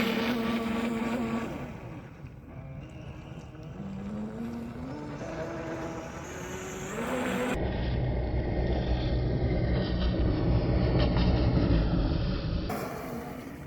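A Sea Dagger boat's motor runs hard at full throttle on open water, a steady loud drone with shifting pitch that swells and holds strong through the middle, no voices over it.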